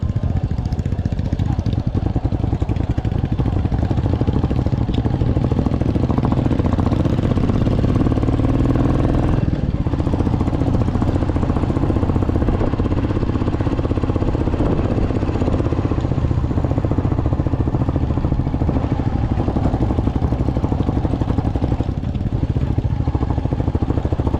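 A motorbike rides over a rough, stony road near a tea garden in Bhotechaur, Nepal, its engine droning steadily and loudly throughout with rattling clatter from the uneven surface, while a voice talks over it.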